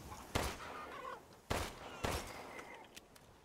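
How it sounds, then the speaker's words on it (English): Chickens in the video game Resident Evil Village, three sharp, loud bursts of clucking and flapping at about 0.4, 1.5 and 2.1 seconds, with faint squawks between them over a quiet background. "Oh, chickens."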